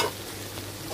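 Chicken pieces frying in a pan give off a soft, steady sizzle, quiet and close, with no voices over it.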